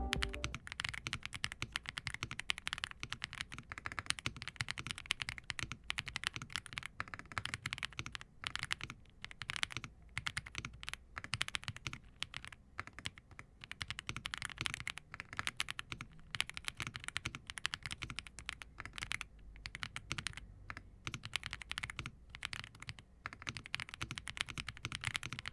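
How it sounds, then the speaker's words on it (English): Steady typing on a GravaStar Mercury K1 Pro mechanical keyboard, a continuous run of close, crisp key clacks with irregular rhythm and no voices. "So let's go ahead and do a little typing test."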